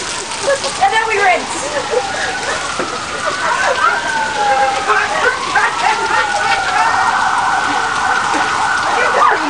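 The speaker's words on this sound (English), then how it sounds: "We gotta wait till it rains really heavy, and then we go outside" Heavy rain pours in a steady, loud, dense hiss that lasts the whole stretch, with a faint siren-like tone wavering underneath.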